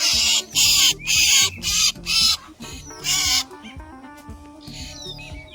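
A parrot caught in a tree trap squawks in a run of five or six harsh, loud, close calls in quick succession, followed by quieter scattered chirps.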